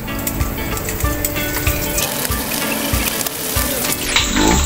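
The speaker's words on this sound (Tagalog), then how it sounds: "Prito natin muna po yung labahita na daing" Steady crackling sizzle of dried labahita fish frying in hot oil, with soft irregular pops and spatters throughout, close and fairly loud.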